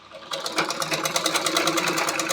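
After a brief quiet start, a sewing machine begins stitching a lined blouse, running loud, close and steady with a fast, even needle clatter.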